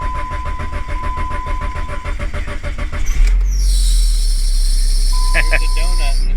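A used car's engine cranks for a few seconds with a rapid rhythmic churn, then catches and settles into a steady loud idle nearby, with a brief tone and some faint voices.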